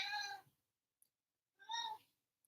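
A cat gives two distinct meows, the first at once and the second about a second and a half later, clear and fairly close with near-silence between them.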